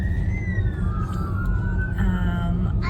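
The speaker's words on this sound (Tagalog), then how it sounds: "fire truck" Fire truck siren wailing in a city street, a clear rising-and-falling tone heard from a moderate distance over steady traffic noise.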